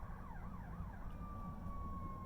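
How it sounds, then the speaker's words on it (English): An emergency siren wails near a hospital, its rising and falling pitch sweeping before settling into a long steady tone, moderately distant over low traffic rumble, with no talk. "if you can't tell from the sounds of sirens right now, we're by a hospital"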